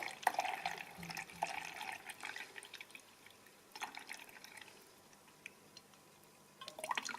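Water runs from an opened tap during a flow-rate experiment, a steady faint hiss with scattered light splashes and drips.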